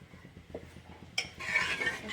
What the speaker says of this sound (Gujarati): આપણે હલાવી લઈશું.